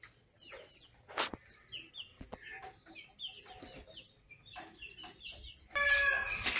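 Backyard chickens in a semi-free-range coop cluck in short, scattered bursts at moderate distance, with a louder, sustained squawk or crowing call near the end.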